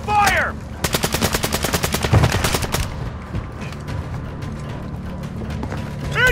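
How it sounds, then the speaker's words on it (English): Gunfire in a video game firefight on Ashika Island, a loud rapid burst of automatic shots for about two seconds, then scattered single cracks and mechanical clatter, with brief voices. "Taking effective fire!"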